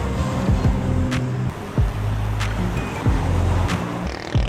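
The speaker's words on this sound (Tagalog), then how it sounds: "Daming mga jeep eh." Steady road traffic with passing engines and low motor rumble, heard from the roadside along a busy main road crowded with jeepneys on a cycling route toward Tagaytay.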